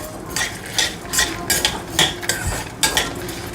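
Toor dal and garlic cloves being sautéed in a pan for a lentil chutney, with repeated metal spoon scrapes and clinks against the pan in an irregular stirring rhythm, close and moderately loud, no voices.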